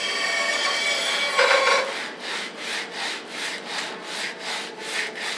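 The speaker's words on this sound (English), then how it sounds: "You just want to take that, fold it if you have to, and you're just going to sand the board." A wooden board for a shelf is sanded by hand with sandpaper, a close, rhythmic scratching of back-and-forth strokes after an opening stretch of steady rubbing.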